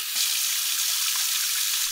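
A kitchen sink tap running full, a steady loud rush of water pouring into the basin, continuous and close with no voices.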